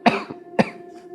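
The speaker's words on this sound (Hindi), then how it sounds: "खांसी हो रही है।" Two sharp, close coughs about half a second apart, each a short harsh burst followed by a brief rasp, with no talking.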